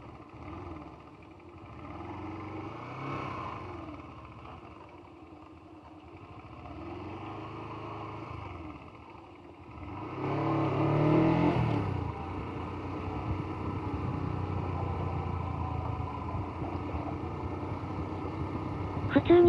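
A restored Honda CB125T motorcycle, a formerly non-running bike, idles and is ridden off, its small engine note rising and falling in revs before a steadier, louder running drone, with some talk mixed in.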